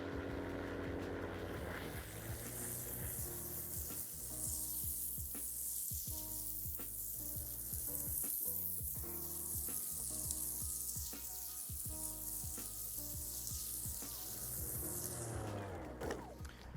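A Ryobi 36V self-propelled lawn mower runs with its blades engaged, cutting grass: a steady, loud whirring drone with a dense hiss that holds throughout, broken by brief thumps, with no talk.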